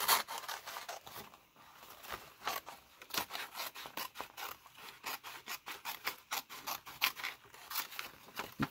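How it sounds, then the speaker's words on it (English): Scissors snip repeatedly in quick, close crisp cuts with short pauses between bursts, no talking. "we're going to go ahead and just snip this down"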